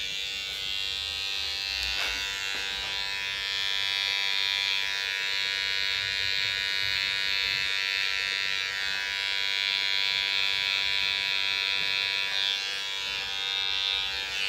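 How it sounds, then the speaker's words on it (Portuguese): An electric hair clipper buzzes steadily and close up while cutting a faded haircut at the side of the head, a continuous motor whine with slight shifts in pitch as it moves through the hair. "com a maquininha"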